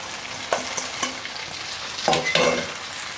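Bean sprouts tossed into a hot wok for takeaway-style chicken chow mein, a brief burst of sizzling with a couple of louder clattering stirs, no talking.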